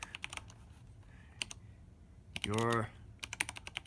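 Quick, crisp clicks of typing on a programmable computer keyboard with macro keys, coming in close bursts before and after a brief spoken word.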